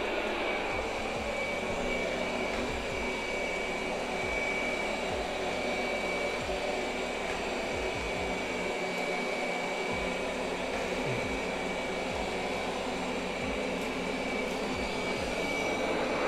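An Ecovacs Deebot X1 Omni robot vacuum runs on carpet at raised suction power, making a steady, moderately loud whirring hum with a faint high whine and occasional soft bumps, with no voices.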